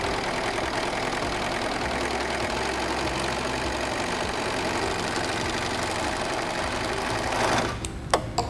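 A Singer 14CG754 three-thread serger overlock machine runs at a steady fast whir and chatter while stitching, continuous and close, then slows and stops near the end with a few clunks.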